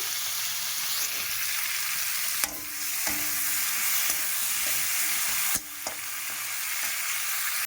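Spiced curry with potatoes and plantain frying in a pan: a steady, close hiss of sizzling oil runs throughout, broken by a few sharp stirring knocks and scrapes, with no talking.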